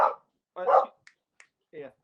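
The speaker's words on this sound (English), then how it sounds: "Sorry, there were dogs." Dogs bark in the background of a live band interview, a few separate deep woofs with short gaps between them, fairly close and clear, plus faint clicks.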